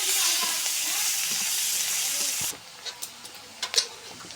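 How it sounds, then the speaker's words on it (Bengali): Onions fry in a pan in a loud, steady sizzle of hot oil that cuts off abruptly halfway, followed by a few faint clinks and taps of cookware. "পেঁয়াজটা লাল লাল করে ভাজা হয়ে গেছে"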